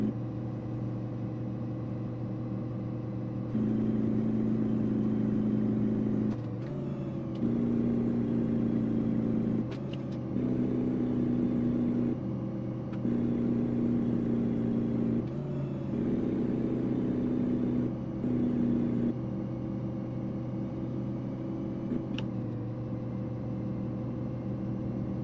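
A modded battle truck in the American Truck Simulator game, its tracks and engine giving a steady, loud low rumble throughout, with a higher engine tone swelling in several repeated surges of revving.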